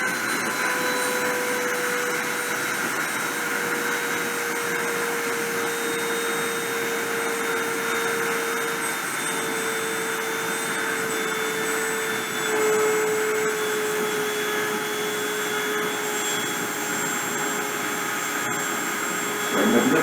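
A deposition machine's spindle runs at a steady pitch, a constant close mechanical whine with layered tonal hum, unchanging for about twenty seconds, with no speech over it.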